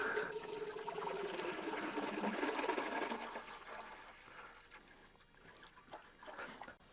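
Liquid pours into a 10-litre container, a continuous gurgling stream with rising pitch as it fills, then tapering off into faint dribbles.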